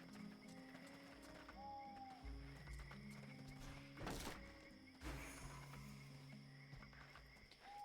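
Horses in the fantasy game Bound By Flame at night, soft hoof thuds with a couple of sharper knocks and a snort-like burst, faint and distant beneath ambient tones.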